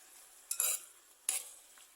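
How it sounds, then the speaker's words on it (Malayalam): Brinjal sautéing with chopped tomato, slit green chillies, shallots and curry leaves in a pan, two bursts of stirring and sizzling a moment apart over a quiet background. "നന്നായിട്ടൊന്ന് വാട്ടിയെടുക്കാം"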